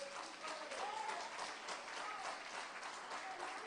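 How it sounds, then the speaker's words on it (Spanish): A church congregation gives steady applause for the Lord, a continuous wash of clapping at moderate level from start to finish, with a few faint voices mixed in. "Denle un aplauso al Señor."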